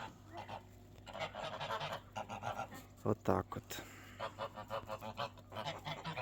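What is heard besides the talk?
geese honking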